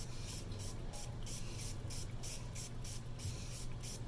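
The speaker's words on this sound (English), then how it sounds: "Just spray the whole ball." A steady hiss of cleaner spray onto a bowling ball, with short rhythmic bursts pulsing through it, close and continuous.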